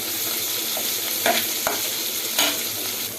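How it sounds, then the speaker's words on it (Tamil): Onion and tomato sauté in a pan for tamarind rice, with a steady soft sizzle punctuated by a few scraping stirs of a spoon, close and fairly quiet. "இந்த ஒரு தக்காளியும் போட்டு நல்லா வதக்கிக்கலாம்"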